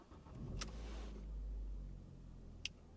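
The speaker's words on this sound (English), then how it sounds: "Okay, engine sounds good." A 1.6 petrol car engine cranks and catches, a brief low rumble settling into a quiet idle heard from inside the car, with a couple of sharp clicks, no speech.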